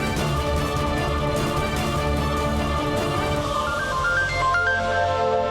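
A mobile phone rings with a repeating electronic ringtone melody, steady and fairly loud, over a layer of dramatic background music, with no talk.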